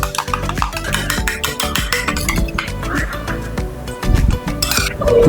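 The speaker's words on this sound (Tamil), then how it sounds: "கொஞ்சம் தண்ணியை ஊற்றி ஸ்பூன் வச்சு பீட் பண்ணிப்போம்." A spoon beats egg and water in a bowl for parotta dough, giving a quick run of clinking taps against the side, close and steady, with music playing underneath.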